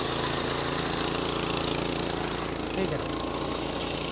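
A wheat reaper machine runs steadily in a field, a loud, continuous engine roar with no breaks, while a voice briefly speaks over it.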